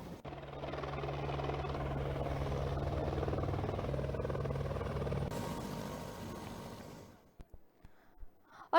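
A helicopter flies overhead with a steady, droning rotor and engine hum that holds for several seconds, then abruptly cuts away to near silence and a few faint knocks.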